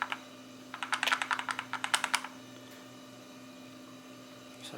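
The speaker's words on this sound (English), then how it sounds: "There's a rattling noise inside this item." A loose part rattles inside a Novatek car DVR rear-view mirror as it is shaken, a quick burst of sharp close clicks over about a second and a half, then only a faint electrical hum.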